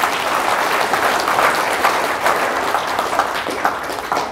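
Dense audience applause fills a hall during a religious lecture in Indonesia, a steady crowd of clapping hands sustained at even loudness throughout without speech.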